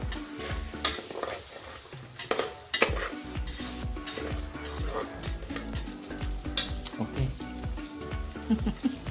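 Ginger-garlic paste for pav bhaji sautés in a pan, with continuous sizzling under busy scraping and clanking of a metal spoon against the pan, loud and close throughout.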